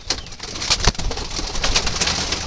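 A red-bordered Jalali pigeon coos close by in a loft, a few brief calls and light rustles over a steady hiss of background noise.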